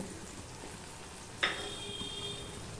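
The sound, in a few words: ginger frying in oil for tempering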